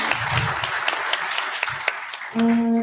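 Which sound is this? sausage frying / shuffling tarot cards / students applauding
students applauding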